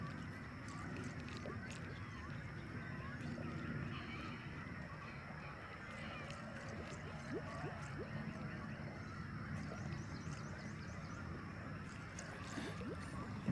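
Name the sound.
birds honking, likely geese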